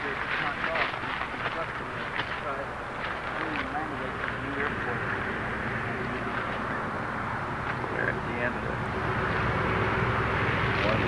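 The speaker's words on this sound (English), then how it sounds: "there's a C-141 coming this way, taking off too" A C-141 military jet takes off on a runway, a steady loud roar of engines filling the whole stretch, with people talking over it.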